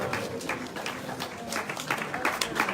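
An audience applauds after a spiritual lecture, a busy patter of many hands clapping with scattered sharper claps rising over the crowd wash, moderately loud and continuous, with some voices mixed in.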